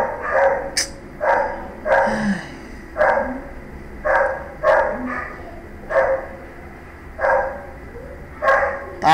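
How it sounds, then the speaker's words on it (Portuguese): A neighbor's dog barks repeatedly in loud, evenly spaced bursts, about eight or nine sharp barks close by with brief pauses between them and no talking over it. "Para de latir, animal."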